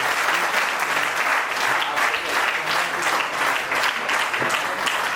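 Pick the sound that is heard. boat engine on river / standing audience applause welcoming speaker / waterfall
standing audience applause welcoming speaker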